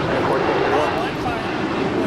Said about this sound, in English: Here we've got Alaska SkyWest 3348 to Redmond. It's a 4-year-old E175LR.